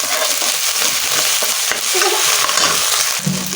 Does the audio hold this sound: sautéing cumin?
yes